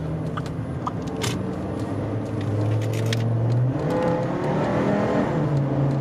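A car driving along a road, its steady engine and tyre rumble rising slightly as it accelerates, with faint knocks and rattles from bumps, loud and close from inside the cabin, no talk.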